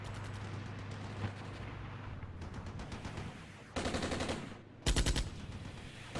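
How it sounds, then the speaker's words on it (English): Mortar and artillery fire pound steadily in the Armored Brigade war game, with dense overlapping bursts and heavier blasts rising in the later seconds, no voices present. "We've got the mortars falling over there."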